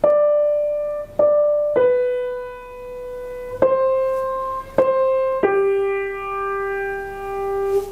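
A short piano phrase from "Silent Night" of six clear single notes, played slowly and evenly, each ringing and fading before the next, the last note held longest.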